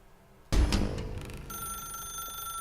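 A loud burst opens the scene in The Stanley Parable, followed by a telephone's steady electronic ringing tone, clear and close with no voices over it.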